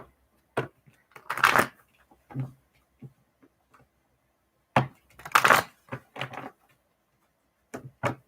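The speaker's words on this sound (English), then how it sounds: "Let me just shuffle these cards a little bit." Tarot cards being shuffled during a live reading, heard as a few short riffling and tapping bursts separated by quiet gaps, close and moderately loud, with no talking.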